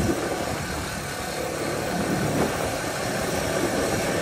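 A misbehaving motorcycle engine with an overflow problem runs steadily, a constant rough mechanical drone close to the microphone with no speech.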